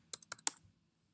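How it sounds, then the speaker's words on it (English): A password typed on a Mac keyboard: four quick, close key clicks in a short run, soft and crisp, followed by quiet. "You want to type in your password."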